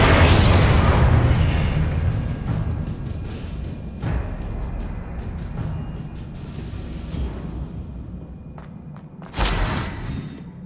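Loud spell explosion from Confringo in the video game Hogwarts Legacy: a heavy boom that decays into a rumbling tail, with smaller pops and crackles, then a second sharp burst near the end.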